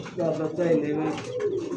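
Pigeons cooing close by in low, rolling throaty calls that repeat through a short stretch, with no talk over them.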